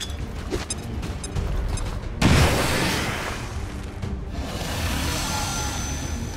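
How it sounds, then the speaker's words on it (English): Frag grenade blast in XCOM 2: a single loud boom strikes midway, followed by a rumbling, debris-like decay and lingering noise that settles over the next seconds. "How about a frag grenade?"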